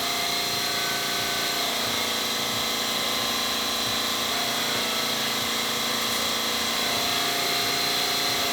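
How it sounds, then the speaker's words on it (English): A grinder works down a dented valley in a crashed car's body panel, giving a steady, loud, harsh whine with slight wavering and no talk. "right now I'm just grinding down that valley because it was just a hit right there"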